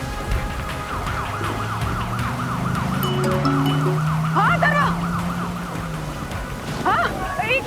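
A wailing ambulance siren sweeps up and down steadily throughout, with a low vehicle engine rumbling underneath and brief scraping noises near the end.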